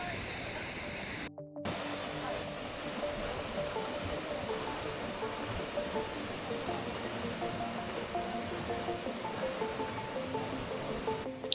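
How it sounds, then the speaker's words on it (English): Hunua Falls in Tāmaki Makaurau pours with a steady broadband rush, a constant close wash of falling water that barely varies, with one short dropout near the start. "At Hunua Falls"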